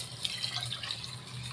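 Water is poured into a bowl of soaked rice for mushroom biryani, a soft, steady trickle and splash running throughout, faint and close, with no voices.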